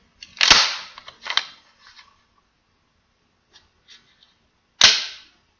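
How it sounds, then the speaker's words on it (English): Ithaca Model 37 shotgun slam-fire action, two sharp loud metallic cracks a few seconds apart, close up, with lighter clicks and handling noises between them. "this is an Ithaca Model 37. Right? Yep, okay. So, fun thing about these, it's a slam fire."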